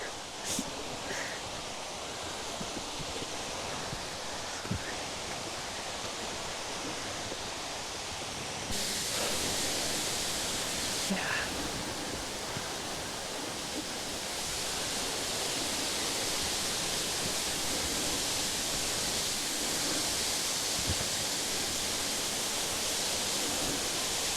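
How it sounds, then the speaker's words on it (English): Tough Cave Waterfall roars as a steady, loud broadband rush of falling water that fills the whole scene and grows slightly stronger partway through, with no talk over it. "Tough Cave Waterfall."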